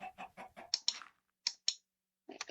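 Chicken clucks from Minecraft: a quick run of short, dry clucks, then a few isolated ones after a pause, close and alone in near silence.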